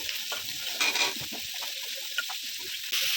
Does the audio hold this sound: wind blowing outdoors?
no